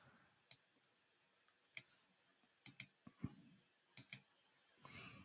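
Computer mouse clicks during image editing work, about ten sharp dry clicks scattered irregularly, some in quick pairs, faint and close against a quiet room background.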